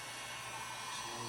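A heat gun blows a steady, whooshing stream of hot air over a wooden selfbow limb, a continuous close-up roar with no breaks and no talk.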